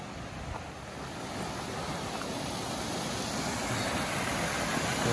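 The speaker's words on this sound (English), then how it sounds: "Waterfalls down there." Rose River Falls in Shenandoah National Park, Virginia: steady, rushing water roars continuously, a dense broadband wash that swells slightly louder toward the end.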